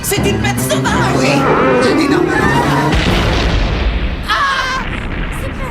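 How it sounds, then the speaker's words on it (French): A loud boom erupts in a French children's horror series set at a summer camp, a heavy explosion with rumbling decay that swells again midway, close and dominant over the scene. "Sûrement une explosion."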